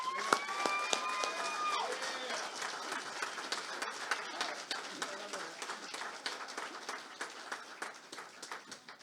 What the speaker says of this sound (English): give the best round of applause to the guy that made all this happen